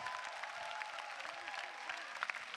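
Steady applause from a stand-up comedy audience, fairly soft and at a distance, a dense patter of clapping that carries on evenly throughout.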